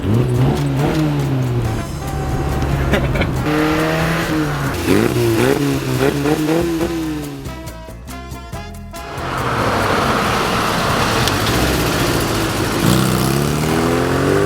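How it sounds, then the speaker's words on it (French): A car engine revs and accelerates loudly and close, rising and falling in pitch through repeated gear pulls, with a brief dip in the middle before the roar returns. "tu roules dans ce genre de bagnole, tu vois."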